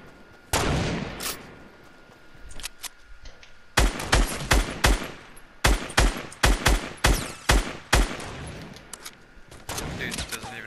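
Video game gunfire, a sharp burst early on, then a quiet stretch before a rapid volley of loud, close shots in quick clusters that trail off near the end.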